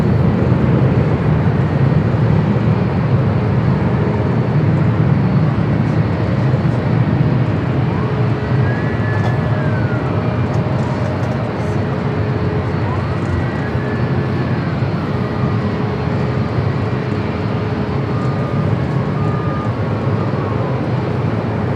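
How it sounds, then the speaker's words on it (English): A Japan Airlines airliner arriving from Osaka at Los Angeles airport makes a steady, loud jet rumble. Faint rising and falling engine whines drift over it. "Flight coming from Osaka, Japan, the 3rd Japan Airlines flight of the day."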